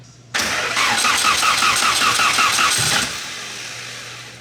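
A Volkswagen Corrado engine cranks and fires after sitting ten years, a loud rough burst of cranking and running that holds for under three seconds, then drops back to a quieter steady hum.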